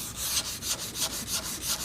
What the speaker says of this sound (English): I'm going to sand that rabbet up very carefully